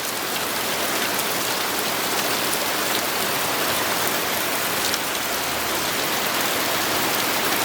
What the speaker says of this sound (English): It's hailing also.